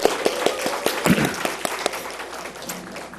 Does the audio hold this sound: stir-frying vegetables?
no